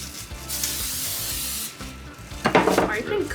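Coconut oil is sprayed from a can onto homemade flatbread in a short continuous hiss, followed by light scraping and handling sounds in a kitchen.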